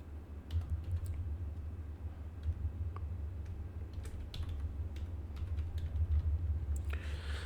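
A folder name being typed on a computer keyboard, a steady run of light, close key clicks over a low background hum, with no talking.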